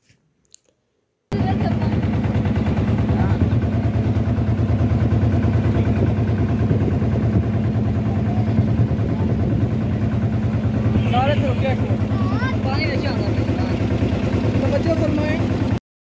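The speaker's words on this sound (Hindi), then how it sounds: "फिर आपने शोर सुना बोट का" A boat engine running near a Punjab village in Pakistan, a loud steady low mechanical drone that starts abruptly and holds evenly throughout, with no talk over it.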